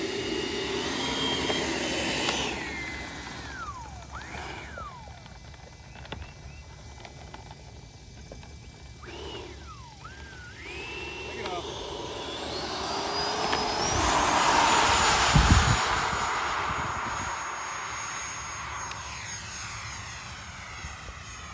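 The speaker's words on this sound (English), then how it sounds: "So let's get this F-22 up in the air." A Freewing F-22 Ultra Performance 8S 90mm ducted-fan RC jet takes off. A steady whine climbs in pitch and swells loudly near the middle of the run, then holds a strong roar as the jet moves off. No voices are heard.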